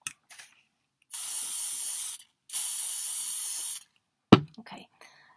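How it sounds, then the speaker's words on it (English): Hairspray hisses onto a miniature figure's hair in two steady bursts of about a second each, close up, with a few soft clicks and taps before and after. "I'm also going to shake up the hairspray and spray her hair"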